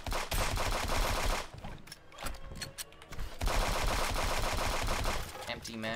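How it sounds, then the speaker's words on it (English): Rapid automatic gunfire from a video game rifle emptying a full magazine, a dense sustained burst with a short lull partway through, loud and close, with game music and effects underneath. "Immediately unload the entire gun."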